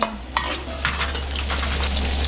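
Garlic sizzling in hot oil in a pan, a steady close frying hiss with a few sharp pops and utensil scrapes, underlaid by a low hum.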